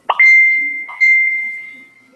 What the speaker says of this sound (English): I'm getting dings on the phone.